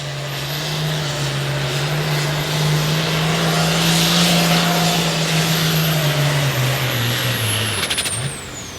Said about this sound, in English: Nice and clean Farmall tractor right out of Inwood